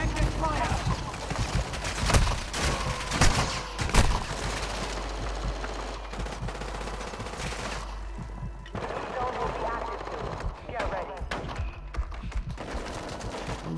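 Gunfire in the video game Warzone: rapid bursts of automatic shots crackle in dense volleys, loud and close at first, then continuing more faintly behind voices talking over game audio.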